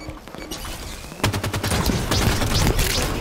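Rapid light rifle gunfire in the video game Halo 5 during a Big Team Battle match, a quick string of loud, close shots after a short lull, continuing as a dense fusillade.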